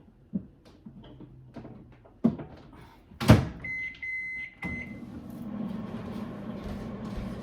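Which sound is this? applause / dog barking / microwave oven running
microwave oven running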